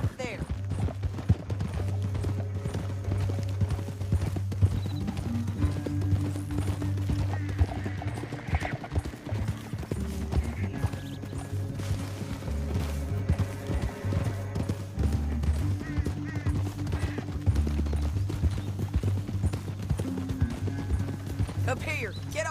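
Horse hooves clip-clopping steadily through a Red Dead Redemption 2 canyon ride, a continuous close rhythm under game music and character dialogue, with occasional whinnies.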